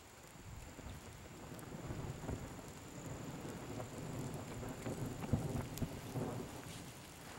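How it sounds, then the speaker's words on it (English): Thunder rumbles repeatedly overhead through a heavy rainstorm, with steady rain hissing throughout and one sharp, close crack near the end. "Some more thunder."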